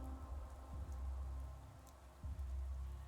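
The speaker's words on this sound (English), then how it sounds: "Bro is sweeping the mud in the rain." Rain in the Pathologic 3 video game, a faint, steady patter of drops under a low rumbling bed with occasional soft thuds, no voices.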